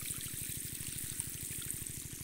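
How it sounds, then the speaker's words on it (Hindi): Water gushes steadily from a loose irrigation pipe watering a wheat field, a continuous close rushing stream with a rapid pulsing throb beneath it and no voices. "ये देखिए पानी निकल रहा है ना, ये देखिए पाइप निकल जा रहा है बार बार"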